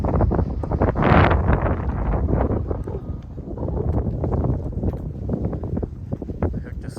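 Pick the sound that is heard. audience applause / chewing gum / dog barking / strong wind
strong wind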